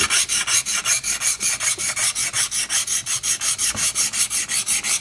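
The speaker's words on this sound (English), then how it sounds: "That reflects where the stone is scraping." A steel chisel rasps back and forth on a sharpening stone in steady, even strokes, about five per second, close and loud with no voices.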